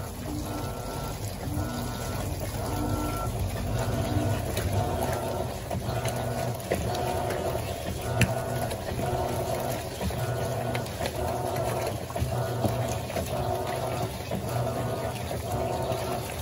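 An Electrolux Silent Control top-loading washing machine with Jet & Clean rinses a load with water: a steady churning, sloshing wash with a continuous pump-like drone and a faint rhythmic agitation underneath, heard up close.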